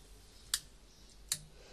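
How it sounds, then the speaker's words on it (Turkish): Two sharp, separate clicks from a dimmer switch with an on-off toggle, wired to a high-speed AC/DC motor, sound close and distinct, about three-quarters of a second apart, against quiet background hiss. "Bakın çıt sesini duyacaksınız."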